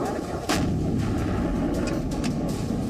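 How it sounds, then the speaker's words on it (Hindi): Artillery shelling at a border gun point, a sharp heavy boom erupting about half a second in and leaving a sustained loud rumbling roar that carries on to the end of the clip. "इस गन पॉइंट पर दोनों पक्षों के बीच बमबारी एक आम सी बात है।"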